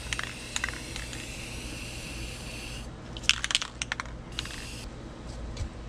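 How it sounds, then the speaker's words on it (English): French lilac spray paint hisses steadily into a hydro dip water bucket for about three seconds while a tumbler is being prepared, then scattered clicks and light taps follow at close range. "I just want to spray a good solid amount into the bucket."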